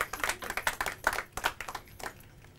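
A studio audience at a Hindi quiz competition claps in a quick, uneven patter of sharp hand slaps that fades over about two seconds. The applause is fairly quiet, with no voices over it.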